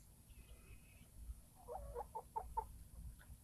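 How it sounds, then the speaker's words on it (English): A Silver Phoenix Silkie cross rooster gives a short run of soft, close clucks in quick succession, faint and alone, after a brief high tone early on. "He's Silver Phoenix, Silky Cross. He's a beautiful chicken."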